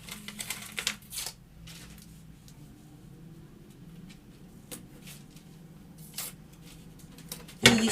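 Scissors cut through a paper pattern piece for pleated trousers, giving a few crisp snips and rustles, with a louder clack near the end and quiet gaps between.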